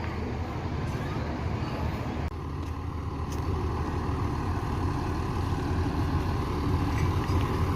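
A bus idles near passengers boarding, its low, continuous engine rumble blending with passing road traffic in a steady, fairly loud wash that does not change much.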